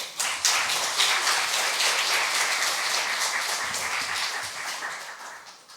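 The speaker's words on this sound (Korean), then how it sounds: "우리 박준수 선교사님 나오실 때 우리 큰 박수로 환영하겠습니다" A church congregation claps in welcome for missionary Park Jun-su, a loud, steady roar of applause that holds evenly and eases off slightly at the close.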